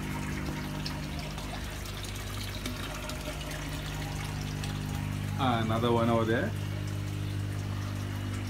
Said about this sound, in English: the water is flowing from the fish tank into the biofilter over here